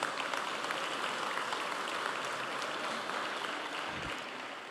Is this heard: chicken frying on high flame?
no